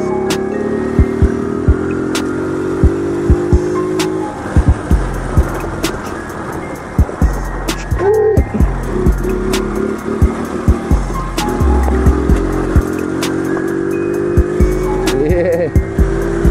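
A Trail 70 (CT70 clone) minibike riding off-road, its small engine droning steadily with revs rising and falling, close up, alongside frequent knocks and clatters from rough terrain.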